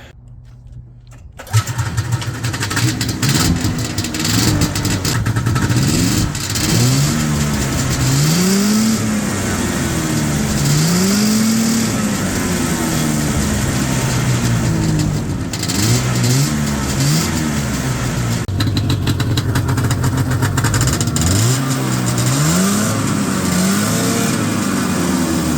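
A rare 1975 Suzuki Fury snowmobile, jacked up at the rear, starts and then revs repeatedly, its small engine buzzing loud and close with rising and falling sweeps of throttle.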